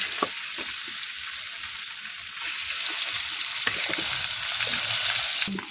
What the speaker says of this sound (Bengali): তো পুঁটি মাছ ভাজবো আজকে